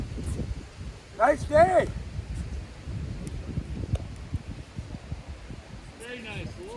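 Wind blows outdoors on a breezy day, a low rustle of leaves and gusty microphone noise running throughout, under a few brief remarks from a person talking.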